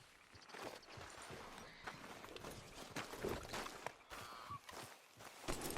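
Horse hooves clop steadily in Red Dead Redemption 2, a continuous rhythmic gait over the ground at moderate loudness beneath game ambience.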